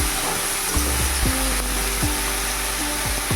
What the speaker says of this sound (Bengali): তারপরে যে লতিগুলো আমি ধুয়ে রেখেছিলাম সেগুলো এবার দিয়ে দেব দিয়ে একটু নেড়ে নেব